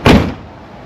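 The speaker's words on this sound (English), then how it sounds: "door slam easy." A single solid thud of a 1987 Chevrolet Caprice Landau door slamming shut, sharp and close, followed by a brief fading rumble.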